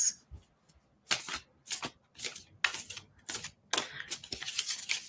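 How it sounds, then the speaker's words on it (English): A deck of tarot cards is given a quick shuffle nearby, with a string of crisp riffling bursts and soft card snaps, each separated by short quiet gaps. "Give them a quick little shuffle."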